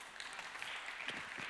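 An audience at a masterclass talk breaks into applause after a joke: a steady wash of many hands clapping, moderately loud and slightly distant, with a brief voice underneath.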